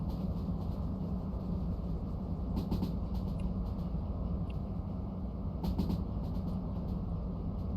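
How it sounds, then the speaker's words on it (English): A long train rolls along in the Derail Valley game, giving a steady, loud rumbling drone with faint repeated clicks of wheels over rail joints throughout. "you can actually hear the sounds that a train makes"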